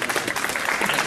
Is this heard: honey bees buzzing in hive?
no